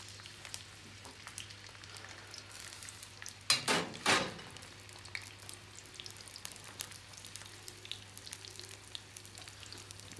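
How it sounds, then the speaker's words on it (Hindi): Green onion and capsicum frying in a pan make a faint, steady crackle with scattered pops, broken by one louder burst of sizzling and stirring near the middle. "और इसको अच्छी तरह फ्राई करेंगे"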